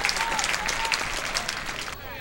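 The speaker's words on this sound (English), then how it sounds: "And Beaver Nation applauds the accomplishment by Sam Gaviglio." Baseball crowd at an Oregon State college game applauding steadily for a pitcher's scoreless-innings accomplishment, a dense continuous patter of clapping with a voice talking over it.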